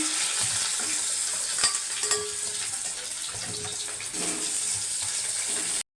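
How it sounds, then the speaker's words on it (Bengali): Steamed, drained potato pieces for alur dom fry in hot oil in a home kitchen, giving a steady, close hiss with crackling and a few sharp clinks and scrapes, no talk. "আলুর দমের আলু ভাজছি আমি।"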